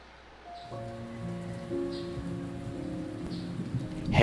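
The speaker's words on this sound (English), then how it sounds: "Heavy rain. That's what it is." Heavy rain pours steadily in the horror video game Remothered, a dense continuous hiss of drops on surfaces with faint distant rumbles, building slightly in loudness with no talk.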